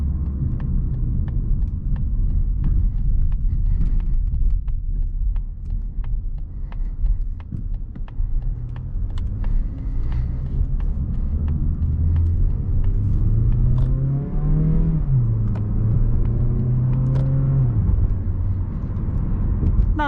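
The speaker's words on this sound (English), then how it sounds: "I already threw it into sport mode, but let's go ahead and make this right turn here and see how fast we can get up to speed." A 2020 Mazda Sport GX with a 2-liter four-cylinder of about 155 horsepower, in sport mode, pulls through a right turn. Steady engine rumble rises in pitch and holds, heard from inside the cabin with no talk.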